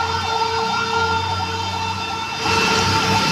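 A fire truck siren wails steadily with traffic noise around it, and the pitch and loudness shift near the end as it draws closer.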